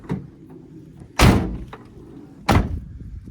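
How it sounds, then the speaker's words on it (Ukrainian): Two heavy, solid slams of a 2013 Opel Vivaro van's rear door shutting, about a second apart, close by with quiet rustling between. "Дверки закриваються гарно"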